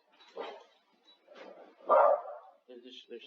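A few dog barks in short bursts, mid-distance, with some voices or background chatter and a brief higher sound near the end.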